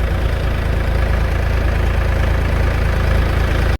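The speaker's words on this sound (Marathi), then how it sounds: "आता ह्यावरनं 2 वेळा गेले ट्रॅक्टर." A tractor engine runs steadily in a farm field where chicken manure is being spread, a loud, continuous low rumble that holds without a break for the whole stretch.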